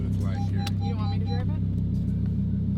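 A modified Audi R8 with its exhaust valves closed gives off a steady, deep, muted engine rumble from inside the car, while people talk over it.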